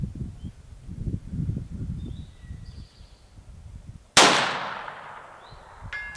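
A single sharp report from an Anschutz Exemplar pistol fired at a 12 by 18 inch target 300 yards away outdoors, sounding loud and close after a stretch of quiet low rumble and bird chirps, with a long decaying tail.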